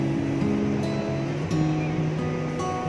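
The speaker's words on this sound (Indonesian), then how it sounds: "yang indah itu, yang bening itu dengan riak-riak dan ombaknya, itu adalah salah satu objek wisata di Pulau Bali" Ocean waves wash continuously at a beach on Bali, with a steady surf wash and some wind close to the microphone under faint tonal background sound.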